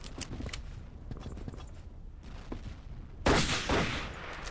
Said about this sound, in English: I heard another engineer rifle shot